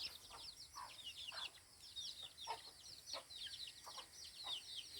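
Chickens cluck and chirp in a short irregular chatter from their pen, several birds calling over a quiet background, fairly faint.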